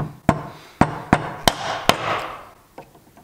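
Mallet tapping a chisel while hand carving a logo into wood, five or six sharp, close knocks at uneven intervals, the last ones lighter, with no talking.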